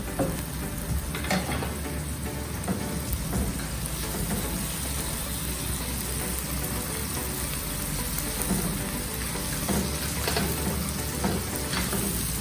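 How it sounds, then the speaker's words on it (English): Paneer stuffing for a no-onion, no-garlic frankie roll sizzles steadily in a hot pan, a dense rain-like frying hiss with the scrape and clatter of stirring mixed in throughout, close and fairly loud. "This is the stuffing of paneer that we are preparing. Go on stirring."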